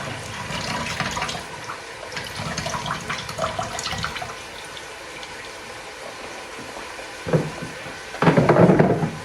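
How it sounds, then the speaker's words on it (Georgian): Water from boiled potatoes pours out of a container, a steady splashing drain that turns louder and more forceful near the end, with no talking. "გადავუწურავ კარტოფილს წყალს"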